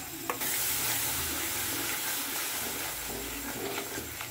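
Yogurt goes into a hot pan for a doi paneer dish, setting off a sudden loud hiss that settles into a steady close sizzle with stirring underneath.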